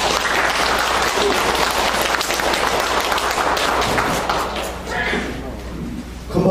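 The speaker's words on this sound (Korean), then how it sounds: "큰 박수로 환영해 주시면 감사하겠습니다" Audience applause welcoming a lecturer at a humanities talk, sustained dense clapping filling the hall, then thinning out toward the end with a final burst.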